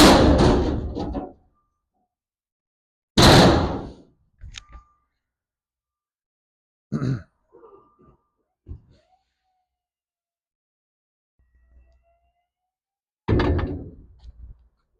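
Service doors on a trash can cleaning truck open and shut with a few sharp metallic clanks and bangs, spaced out irregularly with silent gaps between, loud and close.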